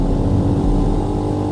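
A Speeder NSX 165R V3 motorcycle with a 168cc liquid-cooled four-valve EFI engine hums steadily and close, a low continuous drone without speech.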